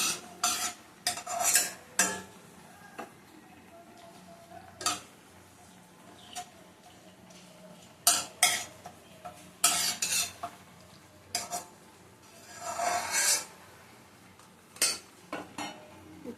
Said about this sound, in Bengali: ভালো করে তেজপাতাটা ভেজে নেব